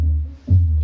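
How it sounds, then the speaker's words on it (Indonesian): A crossover's low output with everything above 200 Hz cut gives a brief, loud, deep bass rumble. It dips for a moment, then swells back, with no voices. "Jadi low ini nggak ada midnya, suaranya seperti ini."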